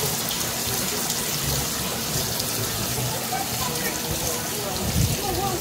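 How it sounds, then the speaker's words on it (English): Water running continuously at a water play exhibit in a children's museum, a steady splashing and trickling wash with children's voices and chatter over it. "You want to touch the water?"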